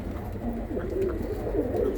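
Birmingham Roller pigeons in a loft give soft, repeated throaty coos over a steady low background hum.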